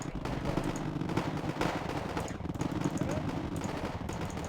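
Artillery fire in the video game Wargame: AirLand Battle, a continuous rumble of rapid shots and booms with repeated sharp cracks, mixed with a voice talking underneath.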